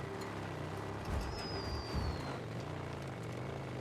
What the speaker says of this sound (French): Le petit bruit là de l'oiseau.